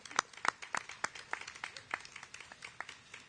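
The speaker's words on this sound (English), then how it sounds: "Let's give her a big round of applause" A small crowd at an outdoor NYC DOT Bike Month kickoff event claps for a Queens Borough Commissioner, a sparse, fairly faint patter of separate hand claps at an irregular rhythm with no talking.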